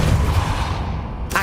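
Depulso spell cast in the Hogwarts Legacy video game: a dense, booming magical blast with a rumbling low end, loud and continuous for about a second, ending in a brighter crackle.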